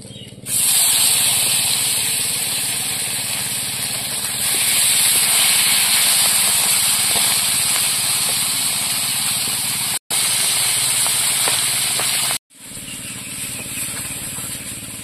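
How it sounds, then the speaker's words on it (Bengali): Pankhagi fish from the Matla river sizzling steadily in hot oil, a loud continuous frying hiss close by, with two brief cuts in the sound near the end. "বাকি মাছগুলো ভেজে নেব।"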